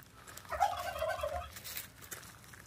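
A turkey gobbles once in a rapid, rattling burst, moderately close, against a quiet outdoor background with no talking.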